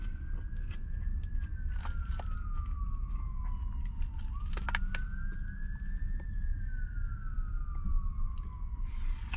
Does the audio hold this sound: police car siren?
yes